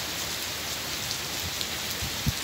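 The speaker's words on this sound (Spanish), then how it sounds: "ahora está lloviendo muchísimo" Heavy rain pours in the small hours at a carp-fishing spot, a dense, continuous hiss of drops hitting surfaces with a few louder close splats and no voices.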